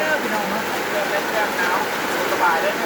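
Rain pours down outdoors onto a pot of soup in a steady, even hiss of dense drops, fairly close, unbroken throughout.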